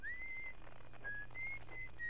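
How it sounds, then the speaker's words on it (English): Whistled melody from a spaceship on the moon in Outer Wilds, a thin clear tune of several held notes with short gaps, moderately loud over a low steady hum, no talking. "Somebody's whistling. What's that? Oh, it's a spaceship."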